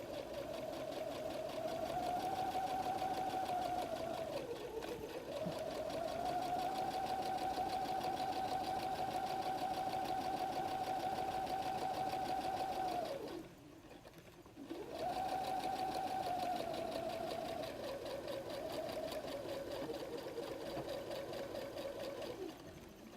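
A sewing machine stitches a fabric pocket for a messenger bag, its loud, even motor whir running in long continuous bursts with a short pause midway before it picks up again.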